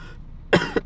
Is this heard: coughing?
yes